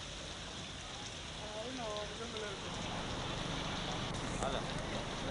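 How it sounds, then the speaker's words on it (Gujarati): Heavy monsoon rain pours in Anand, Gujarat, as a dense, steady hiss, while a voice speaks faintly underneath for a moment. "તમામ વિસ્તારોમાં ધોધમાર વરસાદ થયો"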